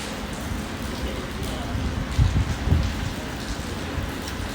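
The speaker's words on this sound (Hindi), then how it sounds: "ज़्यादा हो गई है बारिश लगता है" Heavy rain falls steadily outside as a dense, constant hiss, with a couple of brief low thumps partway through.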